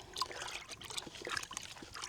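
Liquid sloshing and trickling as about 12 litres of water with garden spray mix is stirred in a bucket, with a steady run of small splashes and swirls close by.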